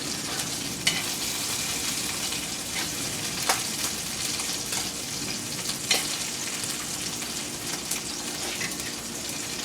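A steak sizzles loudly and steadily in a frying pan, close up, with a dense crackling hiss and a few sharp spits and pops scattered throughout.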